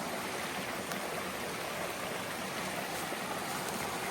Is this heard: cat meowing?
no